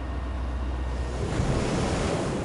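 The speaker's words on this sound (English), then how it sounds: "Waves." North Sea waves washing and breaking around an offshore gas platform, a continuous surging roar that swells midway, with wind noise on the microphone.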